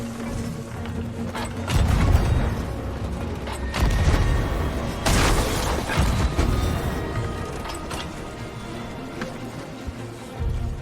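Ship cannons firing during a ghost fleet battle in Sea of Thieves, with several heavy booms and crashes spread through a dense, rumbling mix of battle noise and no talking.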